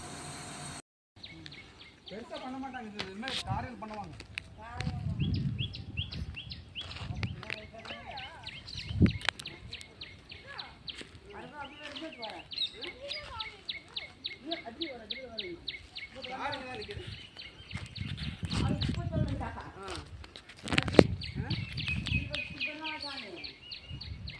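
Sparrows chirp in a village near a temple, a busy series of short tweets and trills scattered throughout, fairly faint, with voices heard at times.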